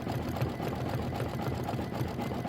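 An embroidery sewing machine stitches a turkey body placement line for a Thanksgiving pillow project, giving off a steady mechanical hum with a regular, fast stitching pulse that stays even and close throughout.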